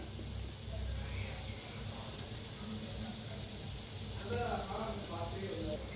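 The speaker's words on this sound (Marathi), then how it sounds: "बघा छान असे तळले चाललेले आहेत." Gulab jamun dumplings frying in hot oil over a medium gas flame give off a steady, soft sizzle and bubbling throughout, with a voice talking over it.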